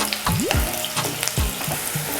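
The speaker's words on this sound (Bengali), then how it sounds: "পেঁয়াজগুলোকে হালকা ভেজে নেব," Chopped onions fry in a pan with a continuous close sizzle, broken by several metallic scrapes and sliding clatters of a spatula stirring, with no talking.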